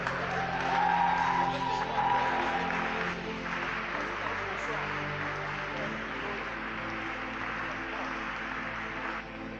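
Worshippers in a church hall applaud and acclaim the Holy Spirit, a steady wash of clapping and crowd cheering that swells early and then settles slightly, with voices mixed through it.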